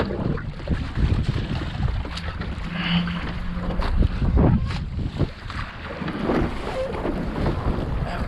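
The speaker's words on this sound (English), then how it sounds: "this wind just really picked up" Strong wind buffets the microphone aboard a sailboat, a constant rough roar with gusty surges and water noise running through the whole stretch, loud and close, with no speech.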